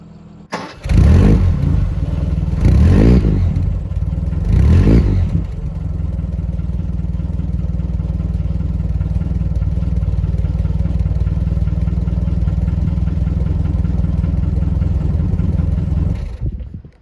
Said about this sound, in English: It's a really nice sounding engine.